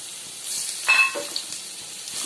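Garlic dropped into hot mustard oil gives a sudden sizzle and hiss, loud at first and then settling into a steady, softer crackle of frying.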